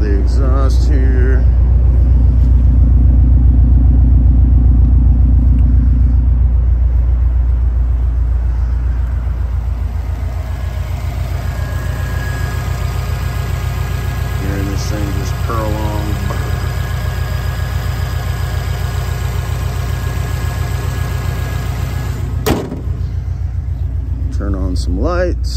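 Engine and exhaust of a 2008 Subaru Impreza WRX STI hatchback running steadily at idle, a loud low rumble throughout with a brief blip near the end, while people talk nearby.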